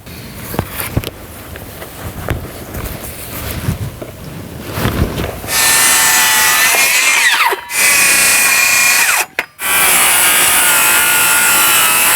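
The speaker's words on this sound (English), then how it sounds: "So you may have noticed that I have a rear handle saw here." Timber is cut with a rear-handle saw while a garden room roof is pitched: light irregular rubbing and knocks come first, then a loud, steady, close saw roar that drops out briefly twice before resuming.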